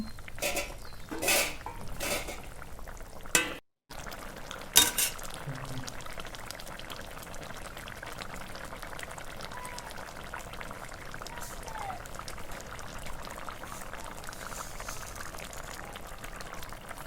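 Fried katla fish pieces go into a simmering sour curry in a pot. A few sharp utensil clatters come early, then steady, quiet bubbling carries on throughout.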